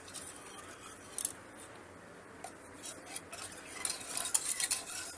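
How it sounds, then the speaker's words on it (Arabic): A spoon stirs a thickening dessert mixture in a pot on a gas stove, with faint scraping and clinks that come in short bursts over a quiet background, growing busier toward the end. "نروح على البوتاجاز نقلب لحد ما قوامه يتقل"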